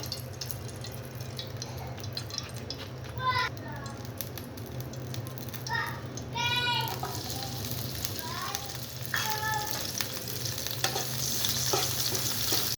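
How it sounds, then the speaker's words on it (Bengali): Boiled greens fry in a hot pan for tempering, with a continuous close sizzle, scattered stirring scrapes and faint voice-like chatter in the background. "এখন আমি শাকটা বাগার দিয়ে নিব।"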